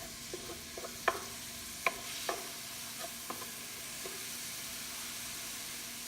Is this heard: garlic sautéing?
yes